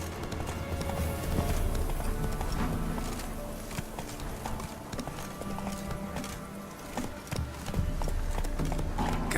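The horse Roach gallops in The Witcher 3, a steady loud clip-clop of hooves running across the ground with an occasional whinny and some game sounds mixed in.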